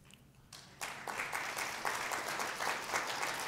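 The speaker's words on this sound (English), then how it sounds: "you don't need to clap" A brief quiet gives way to a conference audience breaking into applause, the clapping swelling quickly and holding as a dense, moderately loud wash with scattered sharper claps for the rest of the stretch.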